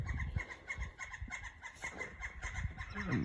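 Chickens cluck and murmur outdoors near a garage where an Outback XT is being repaired, faint and scattered over a steady background hum.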